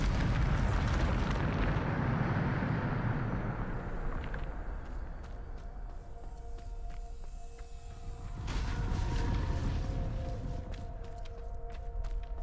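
A Bombarda blast spell cast in Hogwarts Legacy, a loud rumbling explosion that swells, fades mid-clip, then erupts again with a second booming burst over layered game effects.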